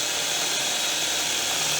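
A power drill bores the first rivet holes through a plate while building the side trays of a homemade fishing seat box. It gives a steady, close, unbroken grinding whir that runs for the whole short stretch with no talk.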